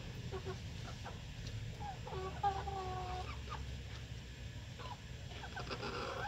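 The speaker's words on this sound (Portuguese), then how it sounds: "As galinhas, galera." Chickens at a family farmhouse clucking intermittently at moderate distance over a steady low background rumble, with a few brief louder calls standing out.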